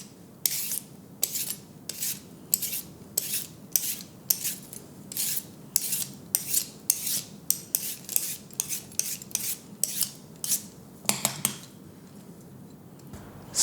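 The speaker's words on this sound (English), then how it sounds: "Use a peeler to remove the coarse outer strings for a more tender bite." Vegetable peeler scraping the coarse outer strings off celery stalks, a close series of quick, crisp rasping strokes repeating in an even rhythm, about twenty in all.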